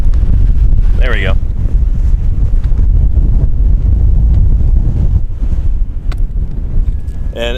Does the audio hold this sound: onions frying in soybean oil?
no